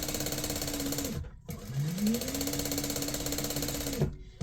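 An industrial sewing machine runs fast in a steady, dense mechanical whir of needle and gears, slowing and pausing briefly twice before picking back up to full speed, close and fairly loud with no talking.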